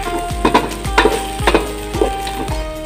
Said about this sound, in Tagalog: So igisa lang po natin tong ating mais.